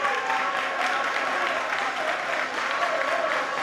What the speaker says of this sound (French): Les joueurs qui sont applaudis par leur public